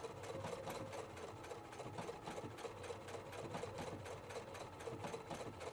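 A Husqvarna Viking Platinum Plus sewing machine stitches steadily and without pause, an even rapid needle rhythm heard close and alone.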